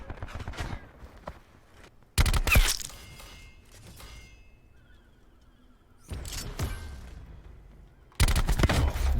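Several loud automatic gunfire bursts from a gun in the video game Black Ops 4 break out in three sharp clusters, separated by quieter gaps with lighter shots and ambient game sound.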